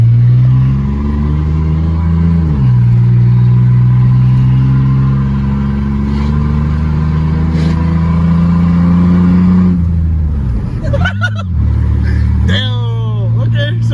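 A Chevy S10 pickup with no muffler revving hard during burnouts, its raw exhaust roaring loud and close as the engine pitch climbs, holds, dips and surges again, with brief gaps and fainter voices in the background.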